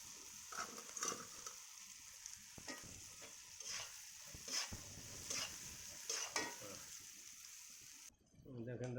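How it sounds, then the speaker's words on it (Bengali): Shrimp sautéing in a pan with steady sizzling and repeated scraping stirs of a utensil, close and fairly faint, ending with a brief different clatter. "এই যে কষাই দিছি।"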